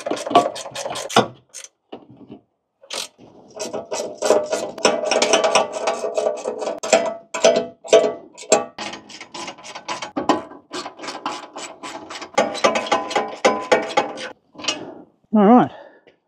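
A wrench on bolts for an auxiliary battery tray in a 2022-on Ford Ranger makes rapid, close ratcheting bursts, repeated in clusters with short pauses between them.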